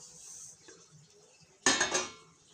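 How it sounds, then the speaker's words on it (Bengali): A metal spoon scrapes and clinks against a pan while semolina (suji) is stirred with melted ghee. Faint scraping comes first, then a short burst of louder metallic scraping near the end. "আবারও সুজিটা নাড়াচাড়া করব"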